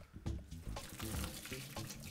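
Cooked Israeli couscous and arugula drained in a kitchen sink, with water pouring and splashing in uneven bursts close by, fairly quiet and steady with no talk.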